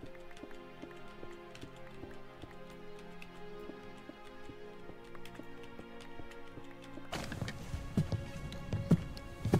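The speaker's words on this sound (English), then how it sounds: "God, I hear those fucking footsteps" Footsteps from a Steam game trailer left playing in the background, a steady rhythm of sharp clip-clop impacts over tonal music, growing louder and denser near the end.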